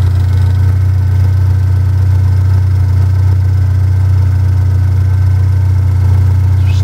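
A Pontiac Solstice engine idling after an EFR turbo upgrade gives a loud, steady low hum with a faint vibrating drone that holds evenly throughout, with no voices.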